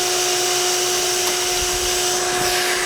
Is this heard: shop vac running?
yes